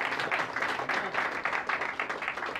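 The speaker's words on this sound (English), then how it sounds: "So we give a clap offering to our Jesus." Congregation at a church outreach meeting in Colombo giving a clap offering, with dense, steady clapping from many hands in a small hall that holds for a few seconds at moderate level.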